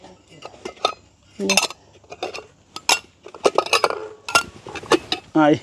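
Metal pots and dishes from a cookware set of many small pieces clink and clatter repeatedly as pieces are handled and set down, with someone talking in Tamil between the knocks.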